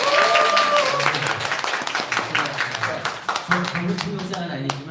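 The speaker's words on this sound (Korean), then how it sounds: "두번 박수 한번." An audience gives a short round of applause, fairly faint and scattered, with a voice speaking over the clapping.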